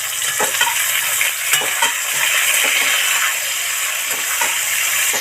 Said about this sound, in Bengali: লঙ্কা যে চিড়ে রেখেছিলাম সেটা এর মধ্যে উঠিয়ে দিলাম। ভালো করে এখন নাড়তে থাকবো।